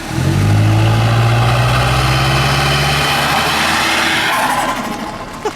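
A turbocharged four-cylinder 2015 Mustang automatic drift car revs hard and loud up close, a droning buzzy engine note straining steadily before dropping away toward the end.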